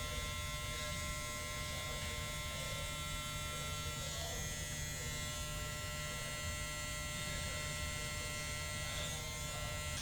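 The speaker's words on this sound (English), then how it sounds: "whatever the clipper can't blend in or get rid of, use a trimmer because the trimmer is always closer" Electric hair trimmer buzzing steadily and close up while cutting and blending a fade haircut, a constant whine with no talk.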